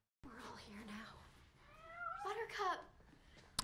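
A cat meows in a scene from The Hunger Games: Mockingjay Part 1, a short drawn-out cry followed by a rising, wavering call. People talk faintly underneath.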